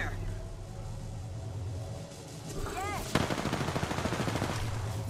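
Rapid gunfire in the shooter game Apex Legends erupts in a sharp burst of automatic shots, loud and close, over steady game ambience with a brief whooshing ability effect just before.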